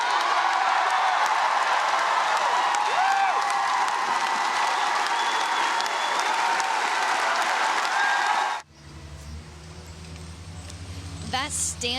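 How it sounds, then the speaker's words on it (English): Loud, sustained applause from a standing crowd at a Harvard commencement ceremony, dense and continuous for several seconds before cutting abruptly to quieter background sound. "That standing ovation went on for about a minute, guys. You can hear the loud applause"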